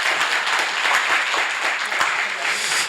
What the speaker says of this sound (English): Don't we want to give a round of applause to both of our speakers?